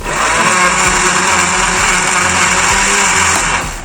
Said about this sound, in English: blend it until like puree